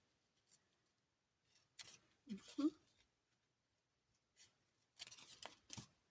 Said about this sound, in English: I'm just going to cut these out really quickly